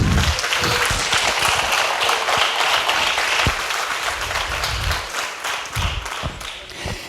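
Church congregation breaks into loud, sustained applause during a sermon, a dense wash of many hands clapping with a few sharp individual claps standing out, slowly easing off over seven seconds.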